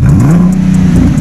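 A VW Touareg 3.6 naturally aspirated engine revs hard through an exhaust with its vacuum flaps open, giving a loud, close, steady droning growl that pulses slightly, heard alone.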